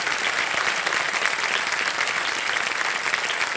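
Studio audience applause on the KBC quiz show, a loud, even wash of clapping from a packed studio that holds steady without any talk.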